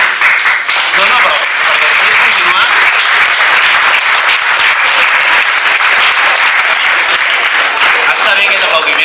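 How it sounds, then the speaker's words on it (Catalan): A crowd at a left-wing political speech on church-state relations gives loud, sustained applause, a thick wash of clapping that stays steady and close for several seconds. "Està bé aquest aplaudiment"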